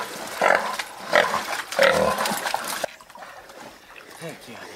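Shrill wild pig squeals ring out in a few bursts during a hunt with dogs in Texas, fairly close, with splashing and rustling, then a quieter stretch of distant squeals.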